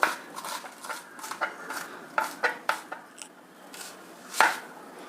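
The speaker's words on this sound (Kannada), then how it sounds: "ಈಗ ಹಸಿಮೆಣಸಿನ್ಕಾಯಿ ಸ್ವಲ್ಪ ಸಣ್ಣದಾಗಿ ಹಚ್ಕೊಂಡ್ರೆ ಒಳ್ಳೆಯದು ಚೆನ್ನಾಗಿ ಬ್ಲೆಂಡ್ ಆಗುತ್ತೆ" A knife finely chopping green chillies on a cutting board, giving a rapid run of crisp close taps in uneven bursts, with one louder knock near the end and no talking.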